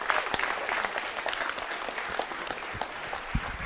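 Students at a JECRC Valentine's Day quiz show clap loudly for a contestant named Priyanka, a brief burst of dense applause with some sharp nearby claps.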